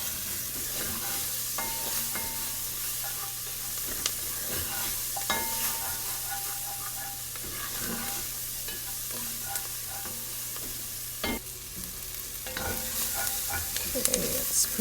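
Half a large onion sautés in a pot for an Olive Garden copycat soup, crackling with a constant close sizzle and regular spoon stirring scrapes and taps against the pot.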